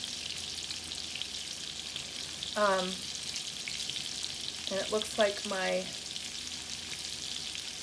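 Steady sizzling of brined pork chops frying in a pan fills the background, while a voice speaks briefly over it a few times.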